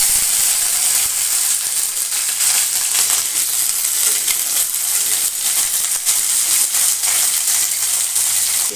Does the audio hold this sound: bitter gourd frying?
yes